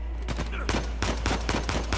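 Gunfire in the video game Uncharted 4 comes as rapid, repeated bursts of shots over a constant low hum, dense and fairly close, with a voice talking briefly among the shots.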